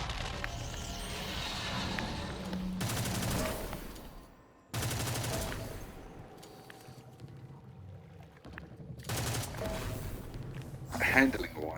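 Auto rifle gunfire in a shooter video game, in bursts of rapid shots with gaps and reload clatter between them, under an intermittent voice talking.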